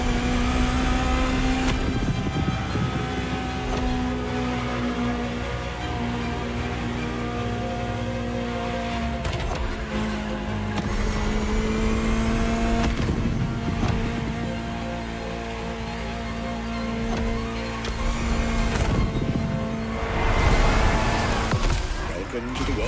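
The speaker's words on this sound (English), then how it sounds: "Just listen to the car you're driving." A Ferrari supercar engine drives and revs, a steady loud mechanical drone that climbs and shifts in pitch through gear changes, with a surge near the end and a voice talking over it.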